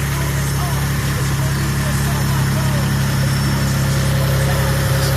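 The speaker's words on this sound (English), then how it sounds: "Cold start, idling." A 1991 Mitsubishi 3000GT VR-4 running E85 idles after a cold start, a steady, loud low hum with constant droning tones and faint background hiss, unbroken throughout.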